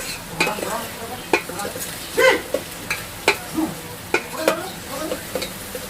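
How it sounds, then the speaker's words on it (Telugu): Gongura chicken frying in a pan and being stirred, with quiet sizzling beneath repeated clanks and scrapes of a spoon against the pan at an irregular pace, close by. "దీన్ని కూడా కలుపుకుంటూ మంచిగా ఫ్రై చేసేసుకుంటున్నాను."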